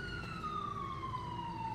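Ambulance siren in the GTA 5 police mod LSPDFR, a steady wailing tone sliding slowly downward, loud and continuous over low road rumble.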